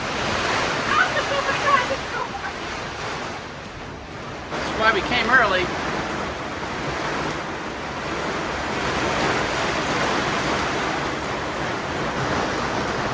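A hailstorm pelts the canvas enclosure of a boat with a continuous, loud, rushing patter that swells and eases, while a person speaks briefly over it.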